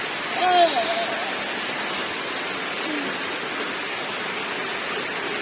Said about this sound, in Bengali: এই বৃষ্টি তো বেড়ে বেড়ে যাচ্ছে গো